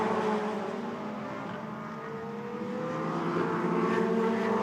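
Caterham race cars drive on the Portimao circuit, their engines droning steadily at mid distance with shifting pitch as they approach a turn, the sound swelling slightly toward the end.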